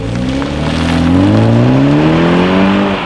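A 2019 BMW 330i xDrive sedan in sport mode pulls hard up to speed, its engine note rising smoothly and steadily, loud and close from inside the cabin, with no voices.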